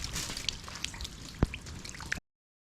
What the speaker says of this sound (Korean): 한참 지붕과 벽체를 철거하고 있는데 갑자기 비가 쏟아지네요.